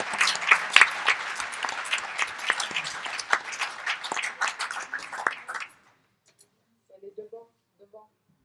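Lively audience applause at a congress closing ceremony, dense claps for about six seconds that stop abruptly, followed by a short bit of distant speech.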